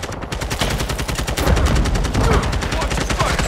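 Rapid automatic gunfire in the video game Modern Warfare 2 Spec Ops, a dense continuous burst of loud shots layered with other weapons firing, with shouted voices mixed underneath.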